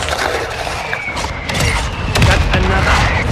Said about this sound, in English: Requesting mortar strike.